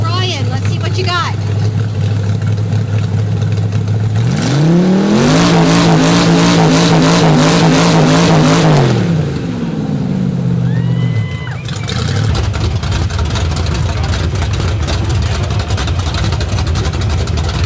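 A 1931 Chevy truck, once a dump truck, revs hard through an open header at a hot rod open-header contest, a loud sustained roar that swells and falls away among background voices.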